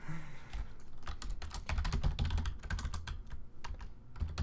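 Fingers tap quickly on a computer keyboard, a dense run of close, crisp key clicks that continues without pause and with no talking over it.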